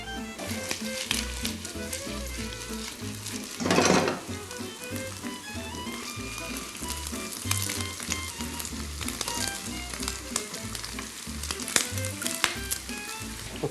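Bacon fries in a pan with roasting potatoes, a steady close sizzle and crackle with soft scraping and stirring knocks, plus one brief louder hiss burst partway through.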